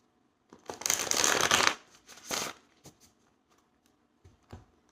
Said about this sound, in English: Sometimes I get concerned that I might be taking too long to shuffle